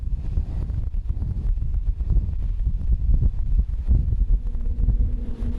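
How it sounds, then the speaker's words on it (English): Strong wind gusts of up to around 35 knots sweep down Union Glacier in Antarctica beside a blue ice runway, roaring steadily and buffeting the microphone with deep rumbling bursts throughout, with no voices. "The wind whips down Union Glacier, keeping the windsock horizontal."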